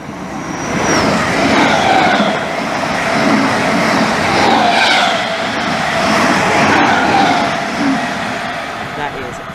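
A Greater Anglia passenger train passes through Romford station, a sustained broad rumble with wheel clatter that swells and eases over several seconds, fairly close and loud, with a voice talking over it.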